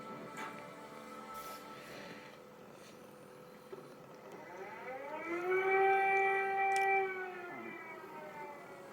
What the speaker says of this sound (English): Explosions and air raid sirens sounded east of Kiev city center